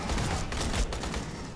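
Dense, continuous rattle of gunfire in the sci-fi shooter Aliens: Colonial Marines, a steady roar of rapid shots at moderate loudness with no clear gaps.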